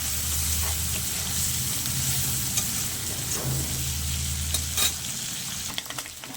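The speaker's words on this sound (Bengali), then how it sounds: "চিংড়ি মাছগুলোকে একটু ভেজে নেব।" Steady sizzling of prawns frying in hot oil for a bottle gourd curry, with occasional stirring scrapes and clinks, no talking.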